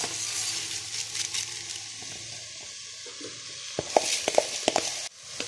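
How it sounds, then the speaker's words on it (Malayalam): Soaked rice is stirred with masala in a pot for a restaurant-style vegetable biryani, making soft scraping and sizzling movement, followed near the end by a few sharp spoon-on-pot clinks. "ഈ മസാല ചേർത്ത് നമുക്ക് നല്ല രീതിക്ക് ഒന്ന് മിക്സ് ചെയ്ത് കൊടുക്കാം."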